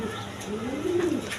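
A pair of Bondinet pigeons, a cock and a hen, coos from close by in a low rising and falling burble, with no talk over it.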